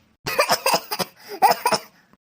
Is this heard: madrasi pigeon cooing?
no